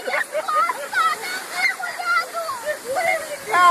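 Water splashes and rushes at a water park ride at the Beto Carrero park, a continuous wet spray heard close by, with excited voices talking and exclaiming over it throughout.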